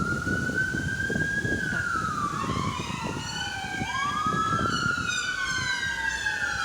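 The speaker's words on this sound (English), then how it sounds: "Sorry for the sirens in the background." Wailing emergency sirens rise and fall continuously, several overlapping, over a low rumble of traffic outdoors.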